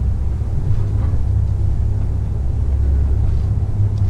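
Majesty 72 motor yacht engines running under acceleration during a sea trial, a loud, steady low rumble with a dense wash of hull and water noise and no distinct breaks.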